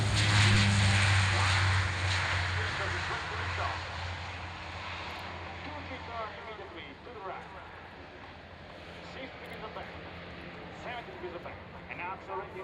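Jet aircraft roaring on its takeoff run at the Fairford air display, loud at first then steadily fading into the distance, with radio chatter and commentary voices heard over the engine noise.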